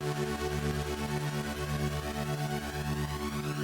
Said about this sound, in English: So at the end, the flanger is kind of doing